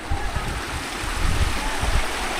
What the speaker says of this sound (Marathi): हे बघा इकडनं पाणी येते